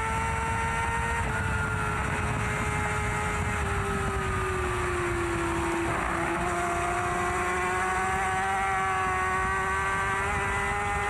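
A racing motorcycle engine screams at the Macau street race, a loud, sustained high-revving whine that climbs and shifts pitch through the gears, heard close and steady throughout.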